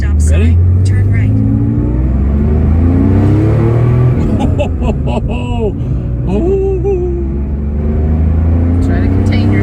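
Close, loud engine of a 1974 Porsche 911 Carrera revving and accelerating from inside the car on the road, with a steady low drone that rises in pitch through several gear pulls, and people talking over it.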